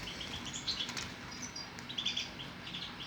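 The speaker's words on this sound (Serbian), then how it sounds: "ovo su ptice starosti 20 dana" Twenty-day-old young birds give faint, scattered high chirps and tweets over a low background hum, with soft fluttering at times.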